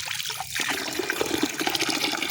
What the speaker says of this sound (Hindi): चश्मे का पानी